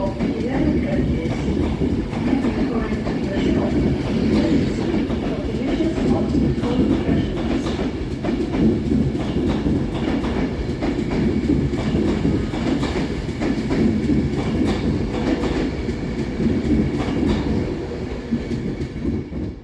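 An 11-coach Avanti West Coast train runs through Crewe railway station with a steady loud rumble, wheels clicking over rail joints and faint squeals, sustained throughout.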